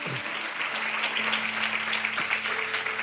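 A congregation at a Lisbon church applauds in a sustained, even wash of clapping, with a faint steady tone held underneath, likely from a keyboard.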